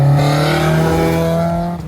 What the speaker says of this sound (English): the interior of the car just got way too loud and our mic started clipping during the driving segment